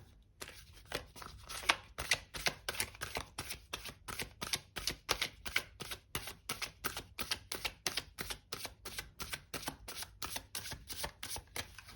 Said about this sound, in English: I will give the deck a few more shuffles here.